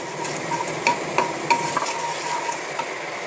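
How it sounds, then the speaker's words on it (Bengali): Whole spices including a cinnamon stick stirred in hot oil for a pumpkin chhokka, a soft steady sizzle with several sharp clinks and scrapes of the spoon against the pan, close up. "ফোড়নেগুলো তেলের মধ্যে দিয়ে একটু ভালোভাবে নাড়াচাড়া করে নেব"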